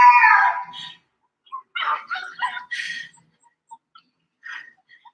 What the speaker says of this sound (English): Catherine, you gotta be quiet and shut that dog up.